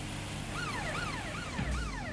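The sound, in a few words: player's vehicle sirens in video game Watch Dogs: Legion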